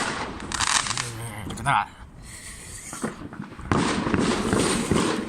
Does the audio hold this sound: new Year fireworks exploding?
yes